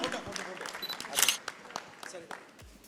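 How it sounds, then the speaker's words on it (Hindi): Scattered applause and clapping for the team at an education festival event, uneven bursts of hands mixed with camera shutter clicks and crowd noise, with voices talking alongside. "तालियां, शानदार।"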